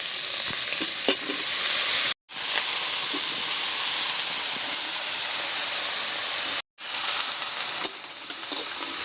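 Lightly fried shrimp being stirred with spices in a pan alongside water lily stems: a loud, continuous hissing sizzle with scattered spatula scrapes, broken by two short gaps.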